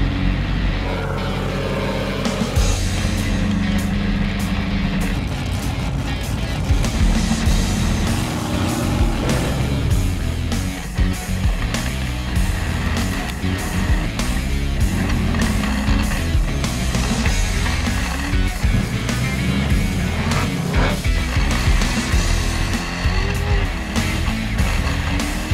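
Race cars roar around a dirt track during a heat race, engines revving and rumbling loudly and continuously as the cars pass.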